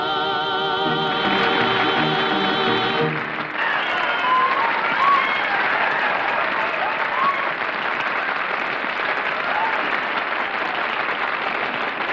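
An audience applauds after a song: music ends in the first few seconds, then loud, sustained clapping fills the rest, with a few faint voices underneath.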